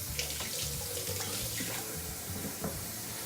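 Running tap water splashing into a kitchen sink while egg is washed off hands, a steady close rush of water that continues without pause.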